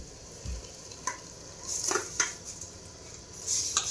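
Biryani masala stirred and frying in a pot, soft sizzling under scattered scrapes and clinks of a spoon against the metal, with a few sharper knocks; no voices.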